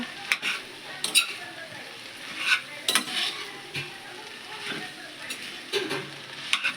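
Spoon stirring rice with green peas in a pot, giving soft scraping and clinking strokes at irregular intervals, close and moderately loud over a faint sizzle.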